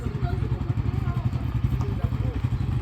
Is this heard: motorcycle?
yes